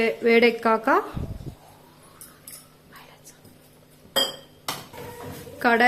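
A metal kadai is set down on a kitchen stove with a short clanking impact while mutton curry is being cooked. There are brief metallic clinks before and after, and a voice talks at the start and end.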